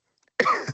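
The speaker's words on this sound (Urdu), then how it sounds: "مجھے صبح کے وقت کئی دفعہ کھانسی لگتی ہے" A single short, sharp cough, close and fairly loud, alone against silence.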